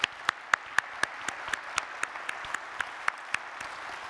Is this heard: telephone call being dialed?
no